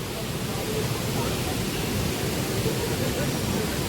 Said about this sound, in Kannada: ಇಲ್ಲೆಲ್ಲ ಈ ರೀತಿ ಹಾರ್ಕೊಂಡು ಬರುತ್ತೆ ನೀರು